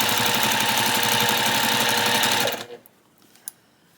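Sewing machine stitching a straight line of fabric for a tote bag, a loud, steady, rapid mechanical whirr close by that stops abruptly after about two and a half seconds, followed by a quiet click.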